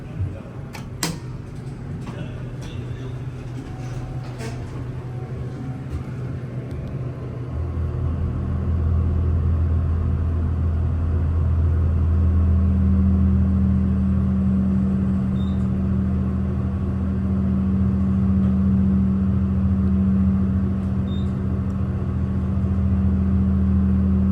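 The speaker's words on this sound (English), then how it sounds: "These are modernized Westinghouse that has an epic motor." A modernized Westinghouse hydraulic elevator's pump motor hums in an office park, a low steady drone that swells louder after several seconds and then holds, with faint clicks early on.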